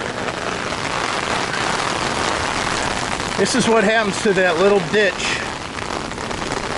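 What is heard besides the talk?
heavy rain falling outside an RV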